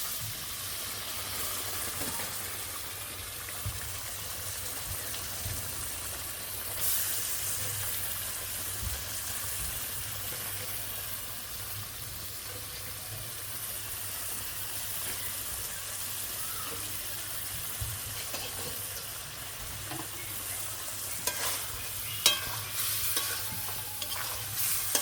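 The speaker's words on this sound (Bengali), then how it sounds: "এখন মাংসগুলা কষে এই মশলা কষানোর মধ্যে দিয়ে দেবো" Meat sautés in fried spice paste in a hot pan, a steady close sizzle and hiss under continual stirring, with occasional scrapes and a sharp knock near the end, no talking.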